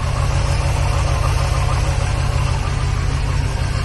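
A car engine fitted with an air/oil separator idles quietly with a steady low rumble and even throb, continuous and unchanging, heard up close with no voices.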